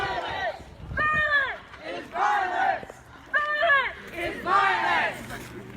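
Hundreds of Black Lives Matter protesters march through Flushing, Michigan, their voices rising in loud, rhythmic chanted shouts that repeat in regular bursts over a steady crowd murmur.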